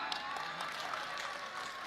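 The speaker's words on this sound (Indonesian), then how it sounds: "Kau tepuk tangan baru kau semua pelakunya" A crowd at an Islamic religious lecture claps steadily, a dense, continuous patter at moderate loudness with no clear pauses.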